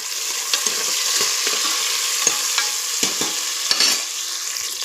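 Onions and a small tomato sizzle and fry in a pan for mint pulao, a continuous loud hiss broken by scattered stirring scrapes and clacks of the spoon against the pan, with no talking.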